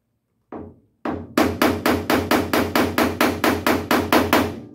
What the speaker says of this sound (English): So you can just take a hammer, and as you've got force on it,